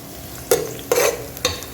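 Onions fry in a pan for a chicken liver gravy, giving a soft, steady sizzle broken by three louder scraping stirs of a spoon against the pan, close by and without any voices.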